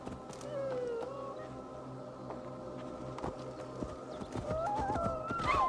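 A horse arrives in the video game Assassin's Creed Valhalla, with hoof clip-clops and a short whinny over a steady game ambience and music, growing louder toward the end.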